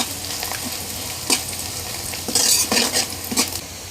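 Onions stirred in a pan with panch phoron and bay leaf in hot oil, a constant sizzle broken by several loud metal spatula scrapes and clanks against the pan, close up with no voices.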